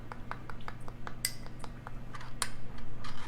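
A spoon stirs garlic powder into melted butter, producing light, irregular clinks and taps against the dish, close and fairly quiet, over a low background hum.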